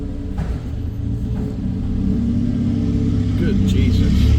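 Peugeot 106 1.1i with a straight pipe exhaust, its small engine throbbing loudly with a deep rumble that builds as it pulls away, while someone talks over it.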